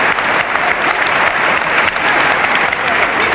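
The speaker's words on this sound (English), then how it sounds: "And just listen to that applause." A crowd at a 1974 wrestling match applauds loudly and continuously, a dense steady clapping that fills the whole stretch without letup.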